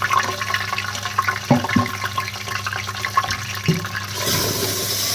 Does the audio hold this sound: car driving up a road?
no